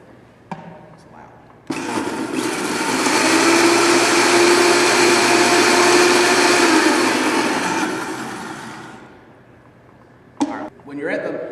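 A blender purees scallop-dish ingredients seasoned with kosher salt and pepper in a kitchen, a loud steady whirring roar lasting several seconds that swells, holds, then winds down, with brief clatter before and after.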